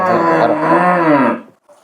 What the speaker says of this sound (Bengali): দর্শক বন্ধুরা খুবই চমৎকার একটা গাবি মাসুম ভাইয়ের কাছে রয়েছে